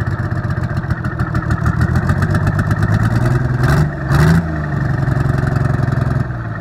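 A Webb mill engine, newly brought back to life, runs loudly and close, its rapid steady firing pulses punctuated by a couple of sharp revs in the middle before it settles back into a continuous run.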